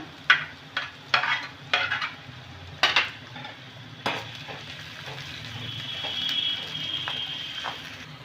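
Ginger and green chilli fry in a pan while a utensil stirs them, giving several sharp scraping clanks in the first seconds, then a steady close sizzle with occasional lighter scrapes.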